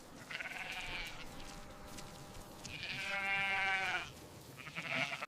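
Grazing sheep on a farm bleat in a few drawn-out calls of moderate distance over quiet outdoor ambience, with no one talking.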